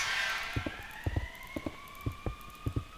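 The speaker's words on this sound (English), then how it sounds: "oh, he hears a siren going." A faint emergency vehicle siren rises and holds a steady wail in the distance, under a series of soft, irregular low knocks and thumps close by.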